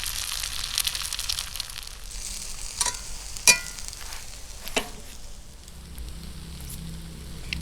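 Sliced Spam and eggs fry together in one pan, giving a steady close crackling sizzle with a few sharp pops and spatula clicks, and no voices.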